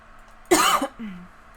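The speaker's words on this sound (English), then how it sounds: "please excuse my cough" A single sharp cough followed by a short throat-clearing rumble, close and loud against a quiet background.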